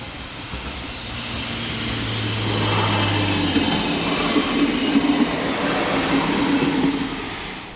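A Heidebahn regional train runs through Hodenhagen station on a branch line between Hamburg and Hannover, its steady rumble swelling and holding with faint wheel squeal, heard alone without talk.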